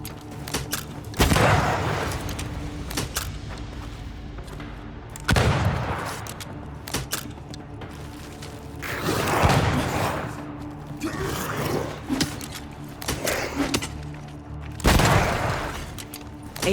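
Rifle gunfire in the video game Banishers: Ghosts of New Eden, a handful of heavy booming shots spaced a few seconds apart, each with a lingering rumble over a low music and ambience bed.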